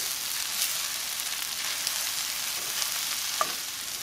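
Fluffy eggs stirred gently in a frying pan for breakfast nachos, a soft steady sizzle with light scraping throughout and one small clink near the end, no talking.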